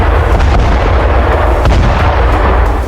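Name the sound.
explosion from a drone strike on a building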